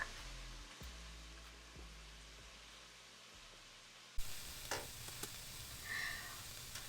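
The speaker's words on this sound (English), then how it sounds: "We are sauteing those over medium-high heat with vegetable oil and a little bit of sesame oil" Celery, onions and carrots sauté over medium-high heat in vegetable oil with a little sesame oil, giving a steady soft sizzle. Louder stirring clatters and scrapes come in partway through.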